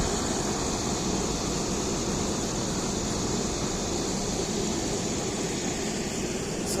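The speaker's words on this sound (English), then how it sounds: "And that sound is, that's my air conditioner." An indoor air conditioner running as a constant, even hum and hiss, steady and moderately quiet with no other sounds.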